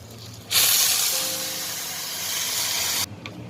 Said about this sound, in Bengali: এ পর্যায়ে আমি গরম জলটা দিয়ে দিব দেখি